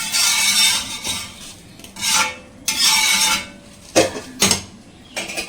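Dosa tawa griddle being scrubbed and rubbed, a run of rough rasping strokes in separate bursts with short pauses between them, plus a few sharper scrapes near the end, close and fairly loud with no talking.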